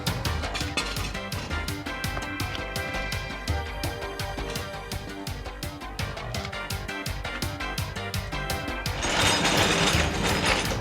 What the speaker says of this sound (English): we'll just put some axle stands in